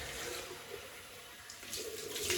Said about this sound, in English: Right, cold water rinse.